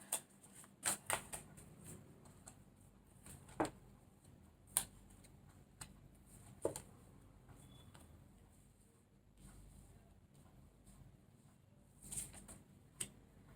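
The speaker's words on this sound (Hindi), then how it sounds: "ये एंड रिजल्ट के कार्ड्स रख रही हूँ मैं यहाँ पर" Tarot cards set down one by one on a table, soft faint taps and light slaps spaced irregularly, close up in a quiet room with low background hiss.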